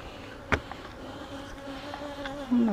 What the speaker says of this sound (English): There's several bees there.